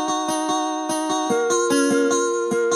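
Synth preset processed with RC20 Retro Color wobble and distortion, playing a bright, plucky pattern of evenly spaced repeated notes with a rich buzzing harmonic edge, loud and up front with no voices.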